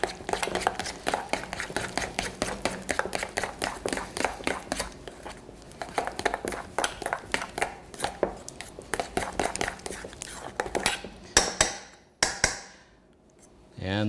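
A spoon stirs strawberry liquid into a cream cheese crepe filling in a bowl, making a steady, rapid run of scraping taps, close and under a person's talk.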